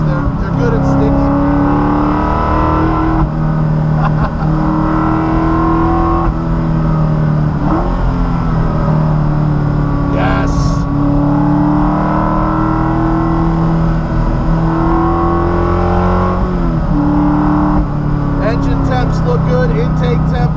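A Ford Coyote V8 swapped into a Porsche Cayman drones loudly and steadily from inside the cabin, its pitch rising and dipping through shifts, with someone talking over the engine.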